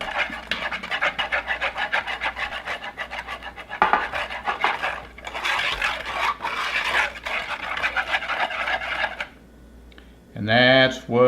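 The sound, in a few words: whisking lime, seasoning, pineapple and beer marinade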